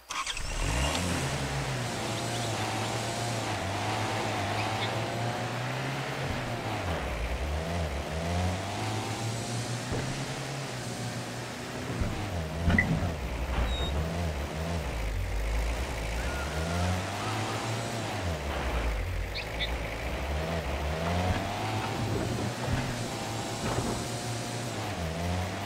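A vehicle driving in the hunting game Way of the Hunter, its engine a steady mid-pitched drone that holds throughout, with slight rises and dips in revs and no pauses.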